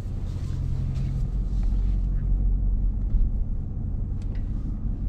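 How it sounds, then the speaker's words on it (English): A RAM TRX pickup truck idles and pulls away in drive, a steady deep engine rumble filling the cabin, close and continuous with a slight swell as it starts moving. "So now I need only to put on my seatbelts, throw it down into drive, release the parking brake,"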